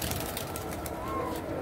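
Pigeons in a loft coo faintly against a steady wash of background noise, the brief soft call barely rising above the hiss.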